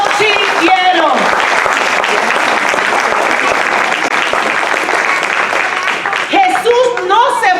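Sustained applause from a church congregation during a Spanish-language sermon on the Gospels, a loud, dense wash of clapping that fills the space steadily, with voices rising near the end as it fades.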